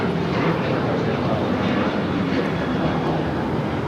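A jet taking off at Los Angeles International Airport produces a continuous, heavy engine roar that holds loud and even from start to finish.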